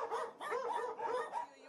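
A group of dogs at an animal shelter barks in chorus, several overlapping yips and barks coming in quick rhythmic bursts, moderately close but not loud.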